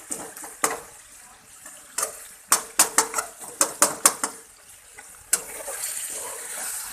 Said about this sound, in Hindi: अब इसको हम अच्छी तरह से टमाटरों को इस तरह से मैश कर देंगे बीच में